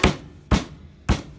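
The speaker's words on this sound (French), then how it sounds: "On va écraser comme ça, de sorte à avoir donc une épaisseur fine donc du morceau de poulet." A rolling pin pounds chicken escalopes flat on a board, three sharp, loud thuds evenly spaced about half a second apart, close, with no talk.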